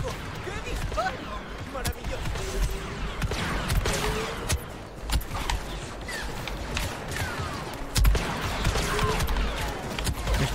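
Sharp video game gunshots crack repeatedly amid busy game sounds and music in Star Wars Battlefront II, with a voice talking in Spanish over them throughout.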